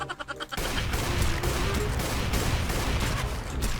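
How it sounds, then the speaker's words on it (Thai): Gunfire in the video game Minecraft WarZ, a dense, continuous rattle of rapid shots that starts abruptly after a brief quieter moment and holds loud to the end. "เพราะมันเป็นปืนยิงหนึ่งนัดตายใช่ปะ เดี๋ยวถ้าเรายิงเขา"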